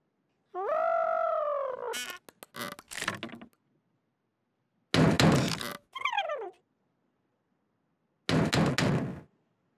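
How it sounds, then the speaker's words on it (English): Knocks on a door in a children's cartoon land as short clustered thuds, set among whistling, sliding cartoon sound effects with silent gaps. "It's somebody at the door."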